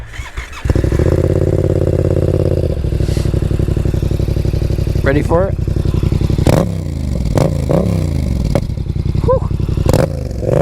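A Yamaha XSR700 stunt bike fitted with a Black Widow full-system exhaust starts up and settles into a loud, throbbing idle close by, then gets several sharp throttle blips and revs, with someone speaking briefly over it.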